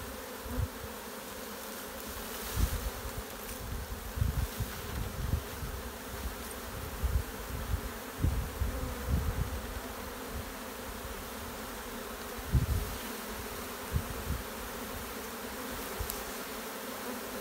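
A honeybee swarm buzzes densely and steadily outdoors among tangled tree branches, a continuous droning hum with individual bees passing close to the microphone, no voices.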